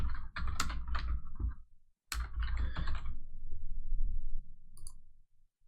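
Fast clicking keystrokes on a computer keyboard in bursts, close and clear, with a short pause before another run of typing and a few scattered clicks at the end.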